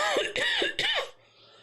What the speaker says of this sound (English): A little bit of a tickle in my throat with a cough.